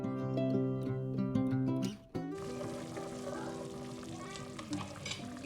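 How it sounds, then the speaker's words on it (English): Mushrooms fry in a pan for a chicken sweetcorn soup, giving a steady close sizzle with a brief dip midway. Faint clinks sound under it and no one speaks. "Now we just let this mushroom cook a little bit."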